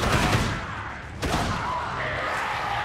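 Gunfire in the Dead Island video game, a rapid fusillade of shots over an action soundtrack, with a sharp loud crack about midway followed by continued bursts.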